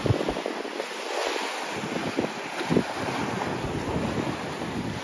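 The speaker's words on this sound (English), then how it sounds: "There's a storm, but it's fine." Stormy wind gusts across a seaside Florida beach at dawn, buffeting the microphone with low rumbling noise over a broad wash of surf, steady and loud throughout with no speech.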